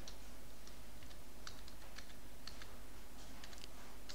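Light typing on a computer keyboard while entering data in Notepad, soft clicks spaced irregularly over a steady hiss of background noise, with no talk.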